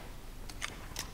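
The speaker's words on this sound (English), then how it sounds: "Changing mags." A rifle magazine is swapped in America's Army: Proving Grounds, with a few brief, faint metallic clicks and snaps over quiet background noise.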